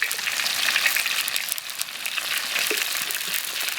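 Doubanjiang bean paste stir-fries in hot oil with ginger, garlic and dried Sichuan peppercorns, giving a steady, dense sizzle and crackle that runs unbroken and close throughout.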